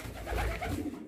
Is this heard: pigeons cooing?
yes